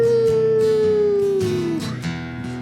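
A voice howls in imitation of coyotes, holding one long note that slides slowly downward over a strummed, rhythmic song accompaniment.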